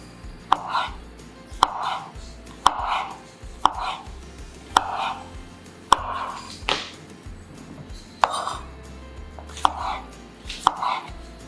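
Knife chopping through soaked, rinsed shiitake mushrooms into thin slices on a board, with about ten sharp, evenly spaced cuts ringing out close up and no talk.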